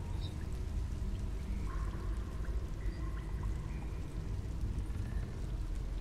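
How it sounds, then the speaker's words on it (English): Flowing water fills the water wheel room in the video game Tomb Raider: Underworld, a continuous loud rushing and pouring wash with faint higher tones drifting above it. "this is the water wheel room that was mentioned in Lara's father's journal"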